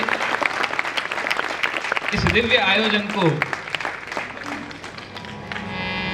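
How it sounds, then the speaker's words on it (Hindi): An audience at the Goverdhan Utsav religious festival bursts into loud, sustained applause, with a voice speaking over the clapping throughout. "सभी के लिए एक बार जोरदार तालियां हो जाए"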